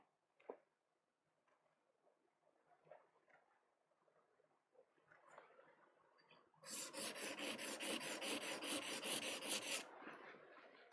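A woodblock printmaking carving tool is sharpened in one steady, continuous rasping stretch of about three seconds, close and fairly loud after a mostly quiet lead-in with a few faint knocks.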